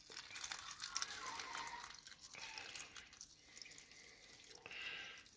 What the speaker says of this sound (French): Quand je dis j'arrose, j'arrose. Je noie.